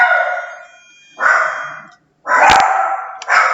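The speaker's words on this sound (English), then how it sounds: "excuse my dogs" Dogs bark indoors in separate loud bursts, three barking spells broken by short silences, close and with no talk over them.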